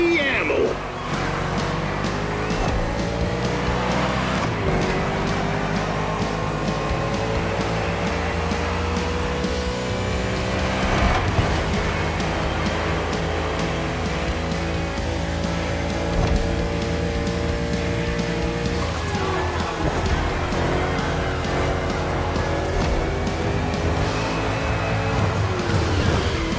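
A NASCAR race car engine in The Crew Motorfest revs and accelerates repeatedly, rising whining pitch sweeps through gear changes, loud and continuous, with a co-driver voice talking over it at times.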